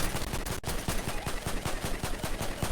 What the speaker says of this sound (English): Lots of shots fired.